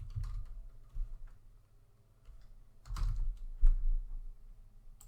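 Fingers typing on a computer keyboard, with a few quick bursts of close, light key clicks separated by short pauses.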